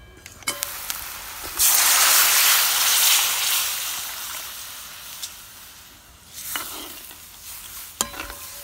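Water poured into a hot pan of sautéed onion for kulith pithale sets off a sudden, loud rush of hissing steam that slowly fades. Spoon clinks against the pan come before and after, with a second smaller burst of sizzle later.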